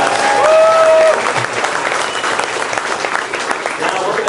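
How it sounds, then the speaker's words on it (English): An audience on a theme park studio backlot tour bursts into loud, sustained applause, a dense clapping wash that holds steady with a faint tonal whine early on. "Let's give him a great big round of applause"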